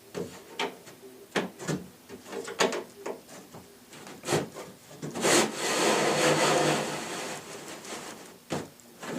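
A wooden lazy susan part for a ready-to-assemble cabinet slides down into its wooden channels, giving a run of short scrapes and knocks followed by a longer, steady rubbing slide, then a few final bumps, close by.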